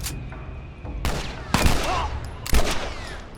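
Gunshots from The Last of Us Remastered video game: three loud, sharp blasts at roughly even intervals, each with a short echoing tail over a low game ambience, with no talking.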